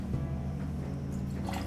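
Pineapple juice poured for a Mary Pickford cocktail: a short, steady liquid stream trickling into a jigger or glass, close and fairly soft, with no talking.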